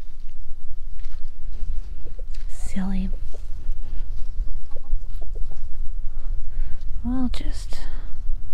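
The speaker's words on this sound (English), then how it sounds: "Hear chickens scratching in the background." Hens cluck softly now and then against a steady outdoor background hiss, with faint scratching and rustling, a couple of clucks standing out; a goose is also present.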